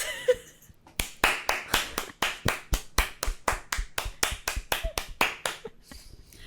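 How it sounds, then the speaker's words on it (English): A single person claps hands in a quick, sharp run of about twenty distinct claps close by, with a brief quiet pause before they begin and a faint voice at the very start. "You can hear which claps were good"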